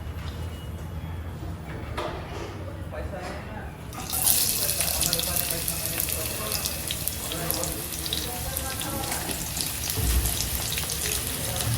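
Onions dropping into hot oil in a pan while cooking chicken curry, giving a steady broadband sizzle that jumps louder partway through and keeps crackling and hissing, close by, with no voices.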